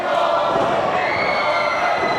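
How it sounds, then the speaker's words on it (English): A wrestling crowd roars and cheers in an arena, behind a wrestler at an indoor match, as a steady, dense wash of voices that stays loud throughout with no breaks. "The crowd getting behind Morton."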